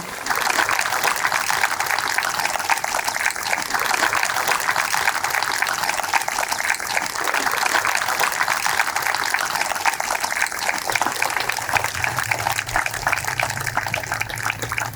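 Crowd applause at an outdoor International Yoga Day celebration in Ahmedabad, a dense, sustained wash of many hands clapping at once, loud and unbroken for the whole stretch.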